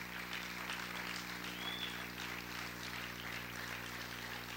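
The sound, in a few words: audience applauding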